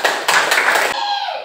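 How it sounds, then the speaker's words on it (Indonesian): A school class clapping together, a short burst of fairly loud, close, dense hand claps that stops abruptly, followed by a brief ringing tone. "Ya, tepuk tangan."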